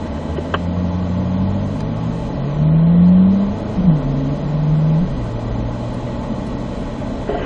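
A car accelerates on a race track, the engine note rising steadily then dropping as it shifts into third gear and climbs again, a loud close mid-pitched roar without talk.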